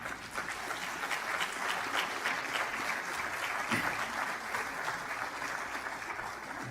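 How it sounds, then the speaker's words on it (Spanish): Church congregation applauding: sustained dense clapping from many hands, steady and moderately loud throughout, with no speech over it. "Denle un aplauso al Señor"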